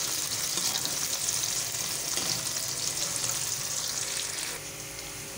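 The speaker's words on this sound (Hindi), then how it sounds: "हमारे प्याज लाइट ब्राउन होना शुरू हो गई है" Onions fry in oil over lowered flame until turning light brown, producing a close, steady sizzle that drops slightly quieter near the end.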